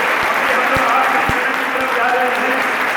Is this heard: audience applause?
yes